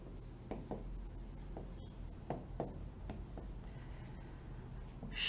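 A teacher writes on a board during a lesson, chalk or marker producing scattered soft taps and scratchy strokes over low room hum, with no clear talking.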